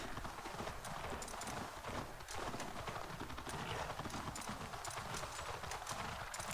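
Horse hooves clip-clop steadily at a riding pace in Assassin's Creed Valhalla, faint and continuous over wind-like ambient noise, with no talk.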